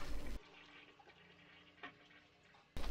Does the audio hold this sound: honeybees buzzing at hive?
no